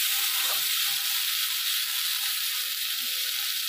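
Vegetables and washed moong dal frying in a pan, a continuous soft hiss of sizzling oil heard close and even throughout, with no voices.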